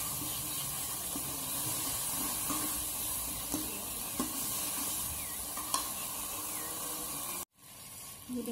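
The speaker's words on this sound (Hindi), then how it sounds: "अब हम इसे अच्छे से भूनेंगे इस मसाले को" Masala spices with salt frying in a pan, a steady close sizzle with soft scraping and stirring knocks throughout, then a brief drop before the hiss resumes.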